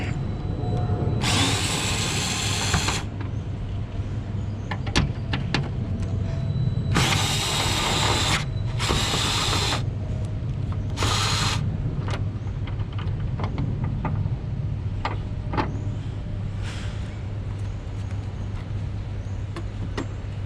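A ratchet with a long 13mm socket works a bolt on a Tesla Model 3 during a frunk install, giving several separate bursts of quick clicking against a steady background hum, close and fairly clear.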